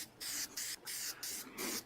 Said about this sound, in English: He's spraying it on the press and seal over the wood.